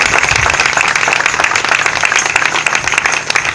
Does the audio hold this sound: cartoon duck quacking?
no